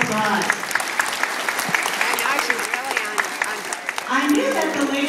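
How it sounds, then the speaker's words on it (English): An assembly audience claps in a dense, even patter that fills most of the moment, while voices speak over and after it. "Let's give them a round of applause."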